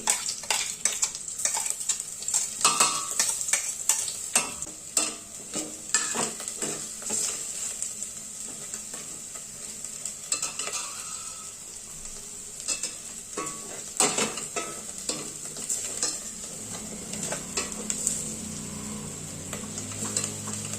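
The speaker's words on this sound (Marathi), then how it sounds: "आलं लसूण हिरवी मिरची छान परतून झाली" Ginger, garlic and green chilli paste sautés in a pan for restaurant-style tomato soup, with a soft sizzle under repeated scraping stirs and clicks of a spoon against the pan, irregular and close.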